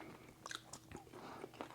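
Close bites and chewing into a crunchy breaded homemade chicken strip, a few sharp crackling crunches followed by softer chewing, quiet and up close.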